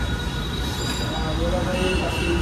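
A Delhi Metro train rolls through near Laxmi Nagar station, loud and close, with a rumbling rail roar and squealing wheels rising toward the end.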